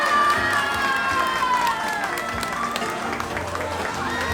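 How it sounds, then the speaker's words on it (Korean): An audience at a community contest award ceremony claps and cheers for prize winners, a dense wash of applause with children's voices and chatter mixed in throughout. "여러분들께서 같이 뜨거운 박수 해주시면"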